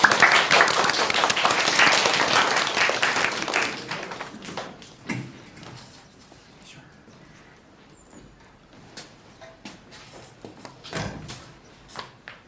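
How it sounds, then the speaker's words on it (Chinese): A school class applauds a student: dense clapping for a few seconds, then it thins out into scattered claps and small knocks and taps in a quieter room. "来，我们掌声鼓励陈暮光同学。"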